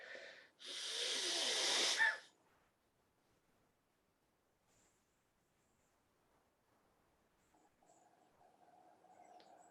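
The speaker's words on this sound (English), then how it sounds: "When it begins to enter up, you just press left nostril, breathe out." A strong, forceful exhale through one nostril during a breathing exercise, lasting about a second and a half, followed by near silence and faint low room sounds.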